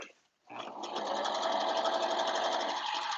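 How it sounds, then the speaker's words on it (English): A serger runs steadily around the edges of a caftan being sewn in a home studio, starting after a short pause and then whirring continuously and loudly at a fast, even stitch rate. "And then I just serge all the way around."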